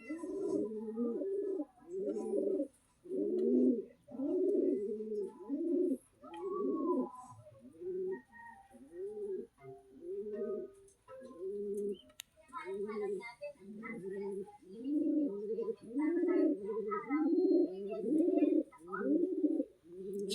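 Pigeons in a loft coo in repeated low, rolling phrases, close and clear, pausing briefly between calls over a quiet background.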